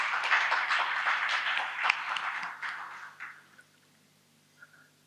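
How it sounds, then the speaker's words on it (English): Audience applause at an India-Thai Chamber gathering, a dense wash of many hands clapping that holds steady for about three seconds, then thins out and fades to near silence with a few scattered late claps. "So let's give him a big round of applause."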